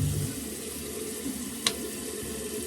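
Water runs steadily from a tap into a sink while someone washes their face, a constant close hiss with a single small clack partway through.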